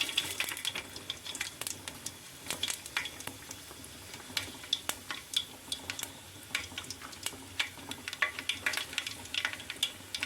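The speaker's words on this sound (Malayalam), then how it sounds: "നമുക്ക് ആദ്യം കടുക് ഉലുവ ജീരകം മൂന്നും കൂടി" Mustard seeds, fenugreek and cumin sizzle in hot coconut oil for a Palakkad-style vegetable dish, with a steady crackle and scattered popping throughout, close and fairly quiet.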